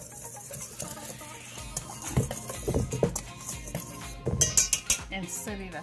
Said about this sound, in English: Then I'm gonna give it a whisk.